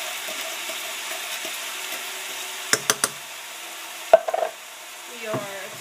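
Spoon stirring tomato sauce into a pot of chilli mac on the stove, soft scraping and sloshing under a low sizzle, with a few sharp clinks of utensil against the pot.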